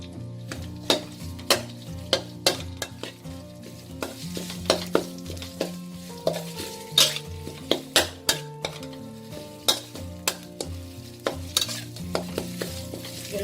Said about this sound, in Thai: จะผัดเครื่องแกงให้หอมก่อนค่ะ